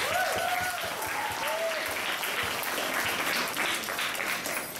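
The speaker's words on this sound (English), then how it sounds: "so you can give yourself a big" Applause at a Year 12 school formal, with a full room clapping steadily throughout and a few cheers and whoops rising over the dense clatter.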